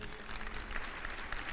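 At a World Yoga Day gathering at Surat Gurukul, a crowd applauds to welcome two yoga teachers: a brief, fairly faint patter of clapping with a low murmur beneath.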